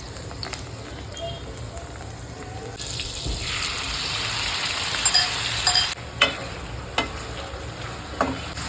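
Butter chicken frying in a pan with coriander stalks, giving a steady hiss and sizzle that swells partway through, broken by stirring clatters and scrapes near the end.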